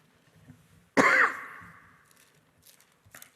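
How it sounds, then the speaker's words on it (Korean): A pastor gives one sharp, harsh cough that clears his throat, loud and close in a quiet room, followed by a fading breath and faint soft sounds. "제가 기침을 해서 놀라셨죠?"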